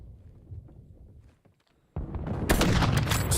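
Gunfire bursts erupt in a Call of Duty match during a league qualifier, sharp shots following a brief lull and then a louder, crackling volley of rapid fire.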